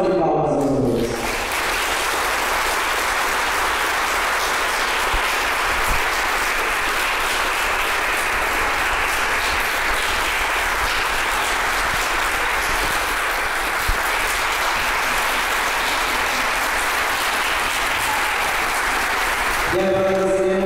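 Sustained applause from a crowd at a wedding ceremony fills the room for nearly twenty seconds, steady and loud from start to finish.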